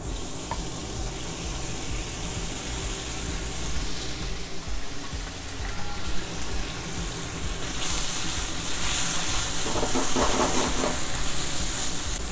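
Marinated beef sears in hot oil in a wok, a loud, continuous sizzle and crackle that grows fiercer and hissier toward the end, with no talking over it.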